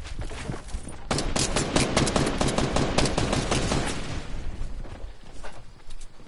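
Rapid gunfire from a player shooting in Fortnite, dense volleys of sharp loud shots crackling for several seconds, then thinning into scattered single pops.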